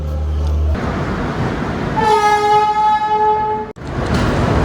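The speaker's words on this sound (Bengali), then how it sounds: "এই যে ট্রেন একদম ঠিকঠাক টাইম এগারোটা কুড়িতে ছেড়ে দিল শিয়ালদা থেকে পদাতিক এক্সপ্রেস" The Padatik Express pulls out of Sealdah station with a steady rail rumble, then a loud, sustained train horn sounds for about two seconds before cutting off.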